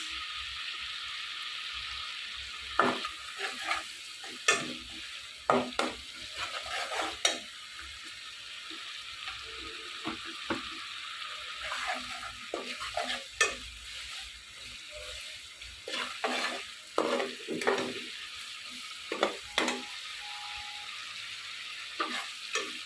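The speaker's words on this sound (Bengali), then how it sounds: "আর দিয়ে দিচ্ছি কয়টা কাঁচামরিচ" Green chilies go into a pan of spice paste being fried, giving a steady sizzle broken by repeated clattering stirs and scrapes of a spatula against the pan, close by.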